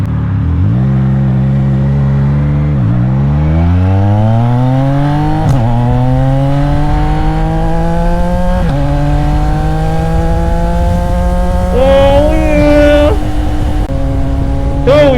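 A CFMOTO 675NK motorcycle engine revs past 6,000 RPM repeatedly through rising gears, its pitch climbing and dropping in long sweeps, loud and close throughout.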